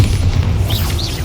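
A Bombarda spell blast in the Hogwarts Legacy video game, a loud, deep, sustained boom with rumbling low end and a few whooshing magical swirls over it, heard alone.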